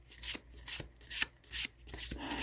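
A tarot card deck being shuffled in rapid bursts, about six riffles of crisp papery rustling separated by short pauses, close and clear with no talking.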